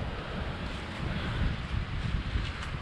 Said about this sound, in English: Most of the wind comes from this direction and hits this corner right here in front of me.